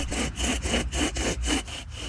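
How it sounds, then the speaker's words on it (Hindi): A hand saw cutting through a tree in a cartoon sound effect: steady back-and-forth rasping strokes, about seven in quick even rhythm, loud and close with no voices. "कालू कौवा आरी लेकर काटने लगता है"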